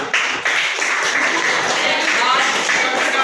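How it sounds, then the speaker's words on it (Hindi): Classroom applause for a quiz team giving a correct answer, a brief burst of clapping from students that runs steadily for about three seconds. "वेरी गुड, तालियां"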